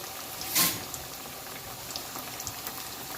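Methi mathri frying in oil over a low gas flame, giving a gentle, continuous bubbling fizz with one brief louder burst near the start.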